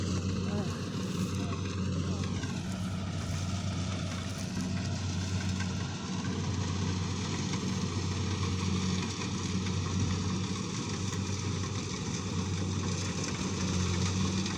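A rice harvesting machine's engine runs steadily in a paddy field during the palay harvest, a continuous mid-pitched drone with slight pitch shifts, while people talk nearby.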